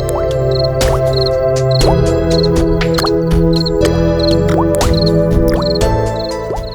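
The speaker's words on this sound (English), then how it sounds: "another large drop of water fell on him" In an animated fairy tale about the Happy Prince, water drips in a repeated series of small plops, evenly paced and clear over a loud, sustained musical score.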